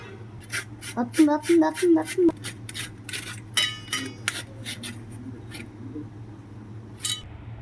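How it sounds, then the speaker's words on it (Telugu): Bottle gourd being grated for kheer, a rhythmic series of close scraping strokes against a metal grater, with clinks in between and a steady low hum beneath. "ఇప్పుడు వీటిని తురిమేసుకుందామండి"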